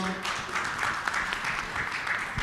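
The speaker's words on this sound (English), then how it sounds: "Can we hear some cheer for them?" An audience at a cybersecurity expert panel claps briefly, a steady patter of moderate, slightly distant applause lasting a couple of seconds.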